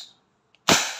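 A WG 708 CO2 airsoft revolver fires a single double-action shot: one loud, sharp crack with a hissing tail, after a brief faint click in near silence.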